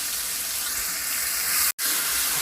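Chopped onions hit hot oil in a frying pan for a dried-fish and tomato curry, giving a loud, steady broadband sizzle throughout, broken by one brief silent cut near the end.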